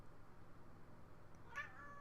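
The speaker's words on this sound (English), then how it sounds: "I love my big gay cat." A pet cat gives one short meow near the end, faint and a little distant against a quiet indoor room hum, with no speech over it.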